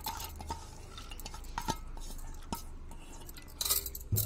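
Soaked dal tipped into a pressure cooker in a home kitchen, giving a series of scattered clinks, taps and scraping knocks of utensil on metal, moderately close, with a louder clatter near the end and no talk.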